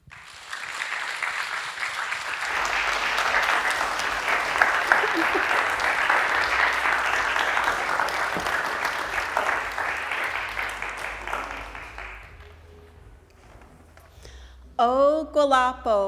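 Audience claps warmly for a Tulalip Tribe storyteller, building quickly to steady dense applause that fades out after about twelve seconds, followed by a voice beginning to speak.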